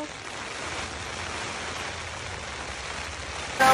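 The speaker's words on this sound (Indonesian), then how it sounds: "tiba-tiba hujan deras banget." Sudden heavy rain pours onto a tent at a windy solo campsite in the early morning, a dense, steady hiss that stays loud and close throughout, with a brief louder burst at the very end.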